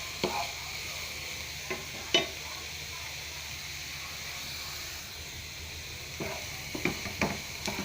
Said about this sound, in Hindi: बसर असांजो हल्को हल्को फ्राई थिए पियो।